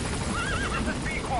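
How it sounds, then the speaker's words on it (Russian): A horse in the video game Metal Gear Solid V whinnies in a wavering, high call, with a voice talking alongside it. "Лошаденька, не бойся."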